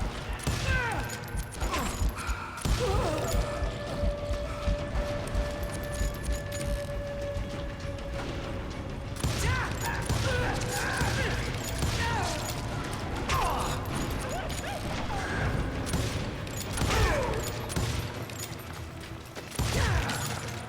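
Gunfire and mechanical clatter from the Western shooter game Call of Juarez: Gunslinger sound out in bursts over a busy mix of game audio, with a faint voice talking at times.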